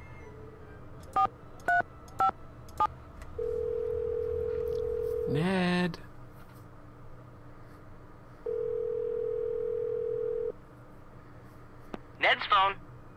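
In the Nancy Drew game Phantom of Venice, a telephone gives a series of short dialing beeps, then two long steady ringing tones separated by a gap, with a voice speaking briefly in between and again near the end.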